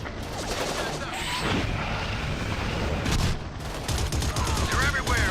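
Dense machine gun fire and overlapping gunshots in a military combat scene from a mid-2000s Xbox video game demo, continuous and loud throughout with explosive booms and shouted voices underneath.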